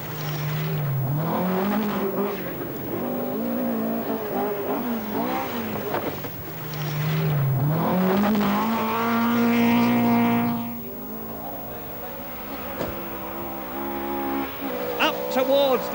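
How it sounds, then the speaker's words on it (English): A Vauxhall rally car at speed on a rally sprint stage at the 1982 Welsh Rally Sprint, engine revving up and down through gear changes with tyre noise, loud and close, under continuous commentary. "Russell's getting the power down at exactly the right point, and just watch the way he handles the Vauxhall."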